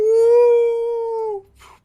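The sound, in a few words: wolves howling, tabletop game narration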